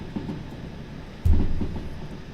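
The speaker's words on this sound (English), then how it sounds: "Train brake." Train braking in the railway sim game Derail Valley, in rain with sand applied: a steady rumbling rail noise jumps to a louder low grinding surge of braking partway through, continuing alongside clatter.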